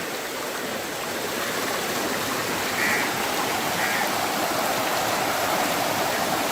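A stream flows steadily through a grazing area where cows feed in the water, in a village inside the Anaimalai Tiger Reserve; a constant, close rushing wash of water with no talk.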